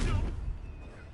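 Spell-casting effect from the Hogwarts Legacy video game: a short, loud magical burst with a booming low thump that fades quickly, over a voice shouting incantations.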